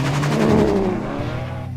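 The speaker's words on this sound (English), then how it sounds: "we decided to have a drag race down the Bentley runway. Aston v Bentley v Ferrari" An Aston Martin DBS, a Bentley Continental Supersports and a Ferrari 599 launch together in a drag race down a runway, a loud close roar of engines with a rising, revving drone that eases slightly as they pull away.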